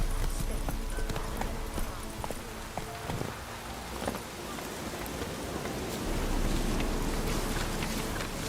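Galloping hooves of Roach, Geralt's horse in The Witcher 3, drum steadily and fairly close against a continuous wash of falling rain, with no pause across the whole stretch.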